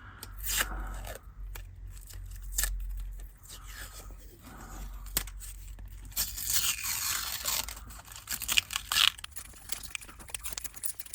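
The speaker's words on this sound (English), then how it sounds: "You need to get a start with a fingernail and then peel it through." Thin plastic packaging crackles and tears as it is peeled off a NanoCoaster model base, with scattered close crinkles and scraping fingernail sounds building into a brighter, longer rip toward the end.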